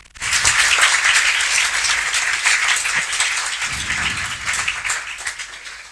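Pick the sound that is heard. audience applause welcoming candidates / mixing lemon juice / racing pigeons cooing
audience applause welcoming candidates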